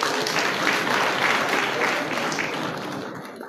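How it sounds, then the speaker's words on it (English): Audience clapping at a graduation ceremony for an at-risk youth empowerment program, a steady, dense wash of applause held for several seconds, easing off slightly at the end. "Please clap for Prince Gotolo"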